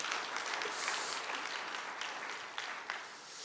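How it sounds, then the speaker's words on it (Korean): A church congregation claps for the team during a Sunday afternoon service, a moderately loud wash of hand claps that holds steady and then tapers slightly toward the end, with no voices over it. "우리 성교팀에게 박수 한번 더 보내드릴게요."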